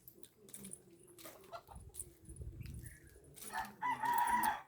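Chickens and a rooster in a farmyard near fields and fruit trees, with scattered clucks and then a loud rooster crow rising near the end, quiet gaps in between.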